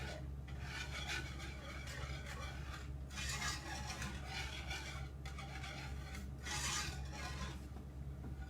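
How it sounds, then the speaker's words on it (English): A whisk scrapes steadily around a pan as cornstarch slurry is worked into a cream sauce for oregano and thyme chicken, a continuous close rasping stir with a few brief pauses, no voices. "Whisk, whisk, whisk until there are no lumps from the cornstarch slurry that you just put in there"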